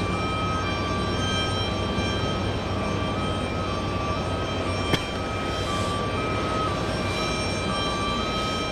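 Virgin Atlantic flight 153, an airliner inbound from Heathrow on approach to JFK, gives a steady, broadband jet roar with a faint whine across the whole stretch, moderately distant and unbroken, with no voices.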